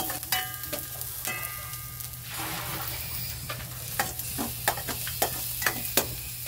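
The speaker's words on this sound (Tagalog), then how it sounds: "Gisa-gisa muna natin ang ating sibuyas bawang." Onion and garlic sauté in a pan, a constant sizzle punctuated by a regular run of sharp utensil taps and scrapes against the pan, close and clear.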